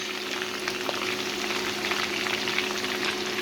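Curry leaves and ginger fry in hot oil for a dry prawn pickle, making a continuous, even sizzle and bubbling crackle throughout, with no speech.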